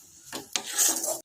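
A spoon scrapes and stirs a green pea filling with turmeric and sugar, sautéing in a pan for winter kochuri. Two or three close, rasping strokes give a light sizzle and then stop abruptly.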